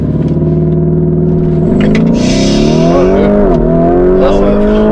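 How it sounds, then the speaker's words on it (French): A Lamborghini Urus launching hard under launch control: a loud, close engine roar holds steady revs, then climbs sharply as the SUV takes off, with tyre noise riding over the rising pitch. "Maintenant, je vais faire un vrai launch control."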